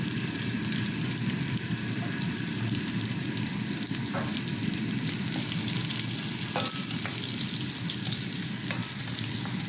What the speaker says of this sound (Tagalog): Kulo na ang ating mantika. Lalagay na natin ang ating bawang at sibuyas.